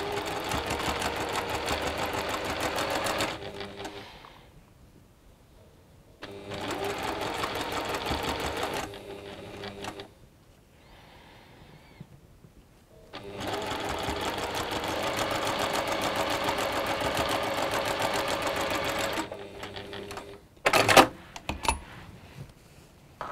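A sewing machine stitches quilt strip sets in three long, steady runs of rapid mechanical whirring separated by quiet pauses, ending with some clattering handling sounds.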